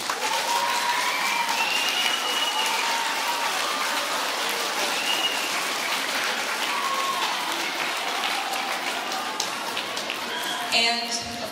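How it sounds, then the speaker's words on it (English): Sustained applause from families and students fills a junior high school choir concert hall, a steady dense wash of clapping that runs throughout and shifts briefly near the end. "students, can you please give your families a round of applause?"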